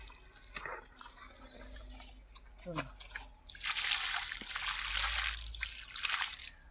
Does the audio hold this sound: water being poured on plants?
yes